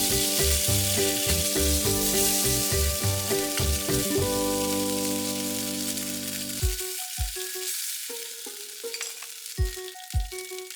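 Ingredients stir-fried with ketchup in a single pan, sizzling loudly with repeated scraping and stirring strokes, then quieting to softer intermittent sizzles and clinks toward the end.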